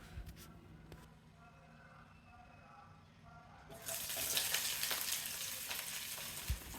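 Sliced onions and green chillies sauté in a hot pan, starting as a quiet, low bubbling hiss before jumping to a close, steady, crackling sizzle that holds to the end.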